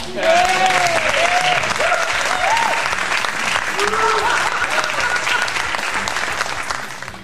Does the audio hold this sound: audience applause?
yes